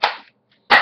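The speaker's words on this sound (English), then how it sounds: "So you shoot it like that." Two sharp BB gun shots, one at the start and another about two-thirds of a second later, each a loud crisp crack with a short decaying tail and silence between them.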